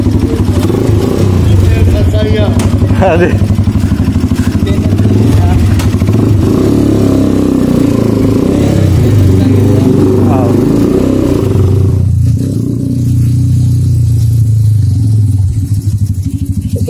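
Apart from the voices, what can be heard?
motorcycle engine running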